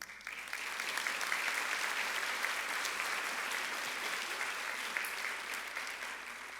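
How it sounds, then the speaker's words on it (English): Audience applause at a high school senior awards ceremony honoring Student Council sponsors, a sustained, even round of clapping from a large room that rises quickly and fades gently at the end. "Please give a round of applause for our Student Council sponsors, Mrs. Elizabeth Davila Ramirez"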